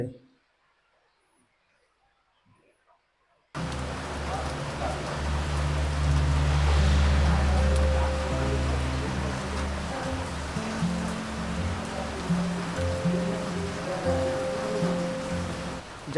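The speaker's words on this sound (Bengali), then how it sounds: "বৃষ্টি হচ্ছে" Rain falls steadily at Duarsini in Purulia, a dense hiss that starts abruptly after a few seconds of near silence and continues with a faint low hum beneath it.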